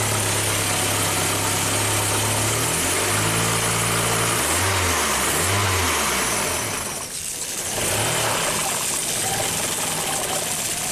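A 1997 Kia Sportage 4x4 engine with a surging idle, heard up close as a loud, steady idle that rises and falls through several revs, briefly dipping near the end before settling back to a constant drone.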